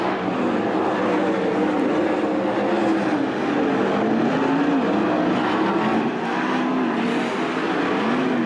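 World of Outlaws sprint cars racing at Attica Raceway Park, a dense, loud roar of engines rising and falling in waves as the cars circle the dirt track.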